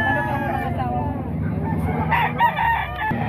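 A seven-month-old rooster at a poultry market crows repeatedly and near, its calls layered over steady clucking and murmuring from other birds, with a louder burst toward the end.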